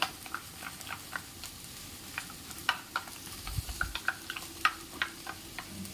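Turmeric powder stirred into a traditional Maharashtrian fresh-turmeric vegetable dish in a pan, with soft sizzling underneath and scattered light clicks and taps of the spoon against the vessel.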